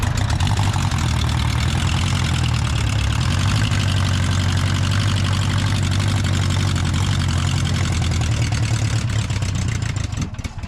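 A small ZAZ-968M car engine with low compression idles loudly and steadily with a low, even rumble, easing off slightly right at the end.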